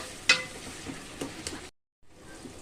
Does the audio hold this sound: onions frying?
yes